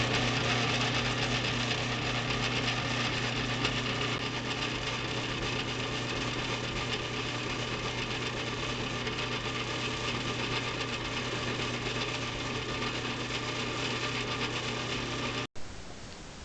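A power tool grinding and cutting a mother-of-pearl button blank, smoothing its sides and thinning its back, runs as a steady, loud, continuous mechanical whine with no pauses, then cuts off abruptly near the end.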